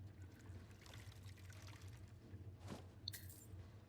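Water being poured as a refill in Skyrim, a soft, faint trickle running steadily over a low background hum.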